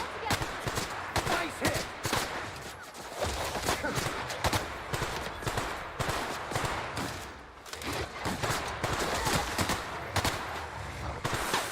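Gunfire from a gun in The Outer Worlds, with rapid repeated shots in dense bursts and brief pauses throughout, mixed with game noise and talking voices.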